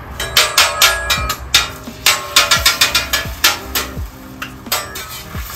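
Metal spatula strikes clatter against the flat steel top of a Blackstone griddle while eggs cook in oil, a rapid run of sharp, loud clanks and scrapes in uneven bursts, with no talking.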